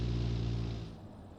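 Engine of a cheap Chinese MX-5 copy car built in Automation and driven in BeamNG.Drive, a loud steady drone that fades toward the end, with no talk over it.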